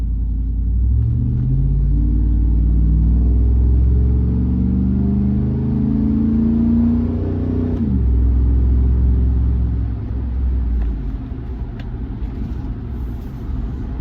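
A deep 5.3L V8 truck engine with a Borla Pro XS muffler rumbles loudly from inside the cabin, climbing steadily in pitch as it revs through a pull, then dropping back to a lower drone.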